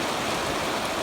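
Steady rain falls at an open hayfield during a thunderstorm, a constant dense hiss with no breaks, fairly loud and close.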